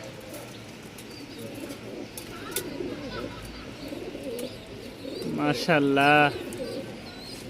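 Pigeons at Mirpur pigeon market coo softly in a busy setting, with murmuring background noise and someone speaking briefly over the birds.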